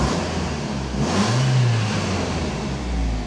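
A 2000 Toyota RAV4 that has sat unused for six years idles, then its engine revs up and eases back down in a single swell, close and continuous.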